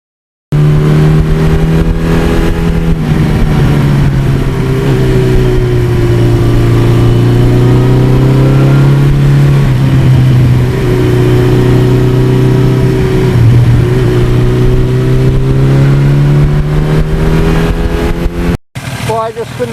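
A 1982 Suzuki GS1100E motorcycle's engine runs close up with a loud, steady low-rpm rumble, rising and falling gently as it is revved a few times before cutting off abruptly at the end.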